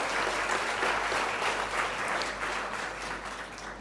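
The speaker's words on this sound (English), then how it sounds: "I think that deserves a round of applause." An audience gives a round of applause at a talk, dense sustained clapping that fills the room evenly and fades slightly toward the end.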